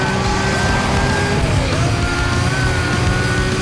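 A car drives in Need for Speed Most Wanted (2005), its engine droning steadily under dense racing noise, with no talking heard.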